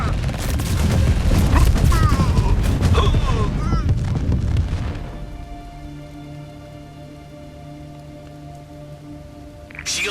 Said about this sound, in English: Commander, we are under fire here.